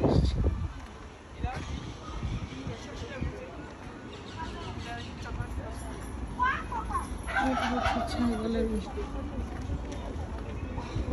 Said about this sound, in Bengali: মুরগি, এই যে মুরগিও আছে